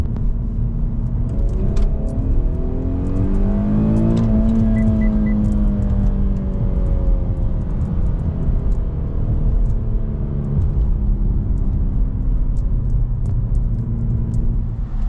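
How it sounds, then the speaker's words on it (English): A Nissan VQ37 engine fitted with a K&N drop-in air filter pulls hard in second gear in manual mode, its loud rumbling engine note climbing steadily in pitch and then holding a strong drone for the rest of the run. "we're going to be doing a second gear pull."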